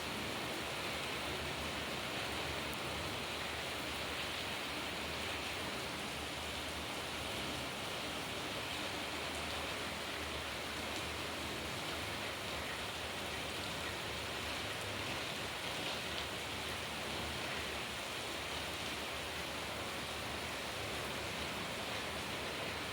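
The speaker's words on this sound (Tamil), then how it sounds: "அதுக்குள்ளே மழை ஸ்டார்ட் ஆகிடுச்சு. இப்போல்லாம் டெய்லியுமே நைட்டில் மழை பெய்யுது இங்கே ஹெவியாக." Heavy rain pouring down at night, a steady, dense hiss that holds unchanged the whole time, with no voices over it.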